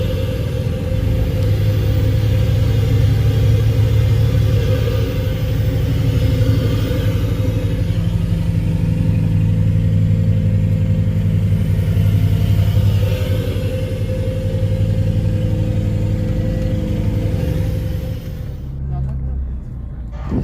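An M-Trans intercity bus engine runs with a deep, steady low drone and rumble that holds for most of the stretch, easing slightly before cutting to a quieter moment near the end.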